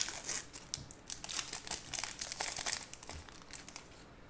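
Foil Modern Horizons Magic card booster packs crinkle and tear open in steady bursts, close and fairly loud, with no talking.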